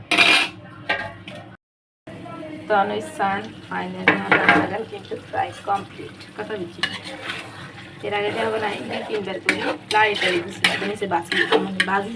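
Potatoes being stirred and mixed in a cooking pot, with repeated scraping clatter of a utensil against metal and a light sizzle, broken by a brief silent gap, while someone talks throughout.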